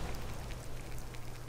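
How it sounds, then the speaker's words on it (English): Rain falls steadily in Skyrim's Riften, a soft, even hiss with faint scattered patter, quiet and unbroken for the whole moment. "It's raining."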